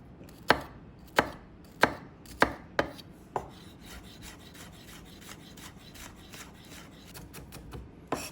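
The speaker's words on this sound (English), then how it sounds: "dice a shallot" A knife dices a shallot on a board with about six crisp, evenly spaced chopping taps, then lighter scraping and small taps fade out before one last tap.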